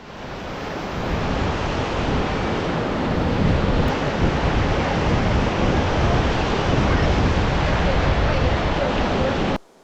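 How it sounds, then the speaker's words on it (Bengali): Sea waves breaking on the beach at Vizag, a broad continuous roar of surf mixed with wind buffeting the microphone, loud and steady until it cuts off abruptly at the end. "চলে এলাম একেবারে সমুদ্রের সামনে।"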